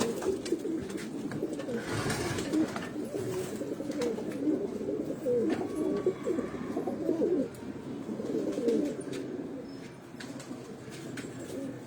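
Green pigeons and mixed-breed pigeons coo steadily in a loft, layered low murmuring calls overlapping continuously, with faint chirps and the occasional flutter of wings throughout.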